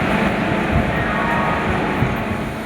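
Howrah–Digha Tamralipta Express standing at platform 19 of a busy station, giving a steady low rumble and hum that stays loud and even throughout, with no voices.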